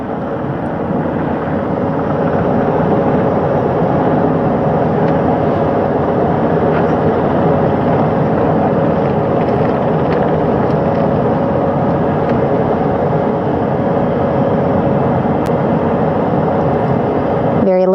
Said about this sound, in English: As that third helicopter touches down.